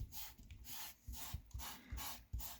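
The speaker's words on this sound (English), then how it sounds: "rub that plaster into the mortar joints by going across the brick" Plaster being rubbed back and forth across an etched brick model panel into the mortar joints, a soft, close, rhythmic scraping with about a dozen quick strokes in a steady pattern.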